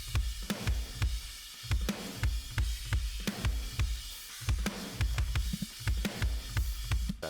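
Sampled metal drum kit heard through overhead mics, the kit triggered with Mix Wave drum samples: fast steady kick pattern with sharp cymbal and snare hits repeating evenly, dense, loud and close, no voices.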